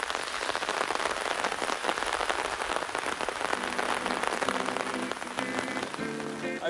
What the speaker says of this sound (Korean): 비가 더 거세게 오기 시작하네